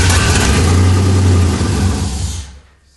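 A turbocharged BMW E46 330i fires up and runs loudly close by, its engine roaring at a steady idle for a couple of seconds before dying away and cutting out.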